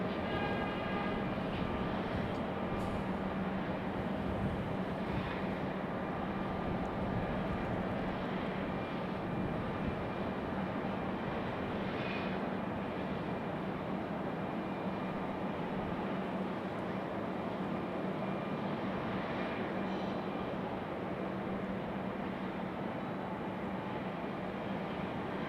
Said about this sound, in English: There's our MAX 9 coming in from Newark, New Jersey.